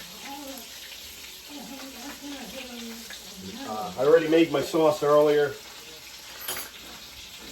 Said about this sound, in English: they're frying up pretty quick.